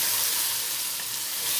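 Rice and peas stirred in a cooking pot, a soft continuous sizzle and scraping hiss, fairly quiet and steady, with no talking.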